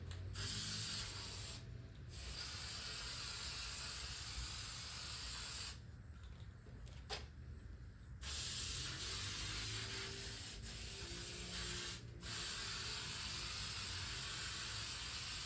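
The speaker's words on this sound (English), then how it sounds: "it's spraying weird" An aerosol spray can hisses in long steady bursts with brief pauses between them, close and fairly quiet, sputtering unevenly while working on a 1980 Corvette or 1983 Caprice.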